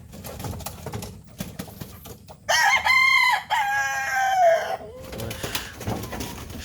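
A chicken at night gives a loud, close, drawn-out squawking call for about two seconds, standing out above low rustling and background noise.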